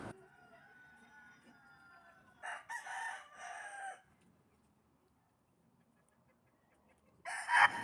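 A Gilmore Hatch gamecock rooster crows in the middle, close and clear, followed by a quieter stretch; another crow starts at the very end.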